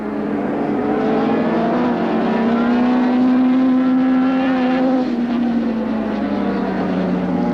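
Formula One racing motorcycles with 1000cc engines at a 1980 international road-racing series, a loud sustained engine roar that rises slightly in pitch then eases, close and continuous without talk.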